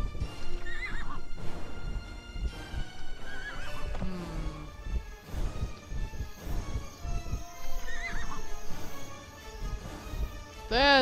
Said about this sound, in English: there's another horse here, so another general can have a horse